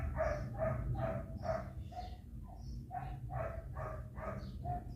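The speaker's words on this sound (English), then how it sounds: "Fuck that dog, man. Busy making noise." A dog barks repeatedly in two quick runs of sharp, evenly spaced barks with a short pause between them, fairly close and clear over a low background hum.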